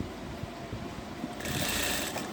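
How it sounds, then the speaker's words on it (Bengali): Sewing machine running a single line of stitching to attach a neckline to fabric, a close rapid mechanical whir that grows louder and brighter midway, with no talk. "এই গলাটা এই কাপড়টাতে আমি বসিয়ে দিব, জাস্ট একটা সেলাই দিয়ে, সিঙ্গেল চাপ একটা সেলাই দিব"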